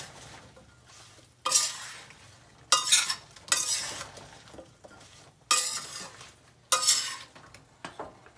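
A utensil scrapes gunda vegetable around in oil in an iron pan, a loud burst of stirring about every second or so with quiet gaps between, close up with a faint sizzle and no voices.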